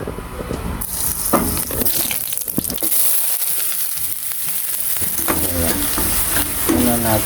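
Onions sizzle loudly in a hot pan for pork tinola, a close, steady frying hiss broken by repeated spatula scrapes and clatters against the metal.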